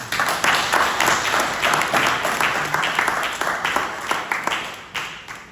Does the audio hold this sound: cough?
no